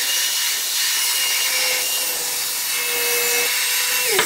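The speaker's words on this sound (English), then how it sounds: "I have my skill saw set on a 45 degree bevel." A skill saw cuts wood at a 45 degree bevel for a log cabin gable, its high whine holding steady through the cut and ending in a brief clatter, loud and close with no talk.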